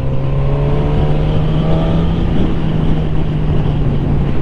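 A 2020 Suzuki GSX-S 1000 motorcycle cruises at a steady pace, its engine holding a constant drone while heavy wind buffets the microphone without a break, and no voice is heard.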